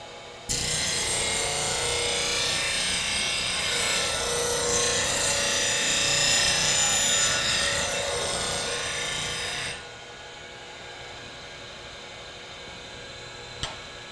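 A woodturning gouge swept across a running bench grinder gives a continuous, even high rasping grind for about nine seconds that then cuts off, followed by a quieter hum and one small click.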